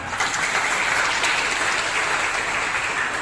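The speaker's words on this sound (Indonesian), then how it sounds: "Tepuk tangan." Steady applause from a crowd at an Indonesian community thanksgiving gathering for Independence Day, a dense continuous patter of clapping hands, fairly loud and close, without talk.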